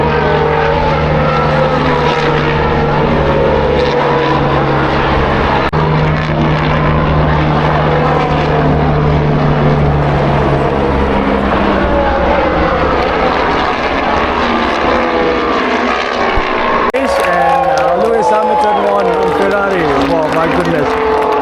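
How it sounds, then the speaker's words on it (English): Formula One cars race past during sprint qualifying at the Shanghai circuit, a loud continuous engine roar with rising and falling tones from spectator distance, and a person talking over it. "We're now watching the Formula One race, and Lewis Hamilton is here, so it's really cool. This is the sprint qualifying."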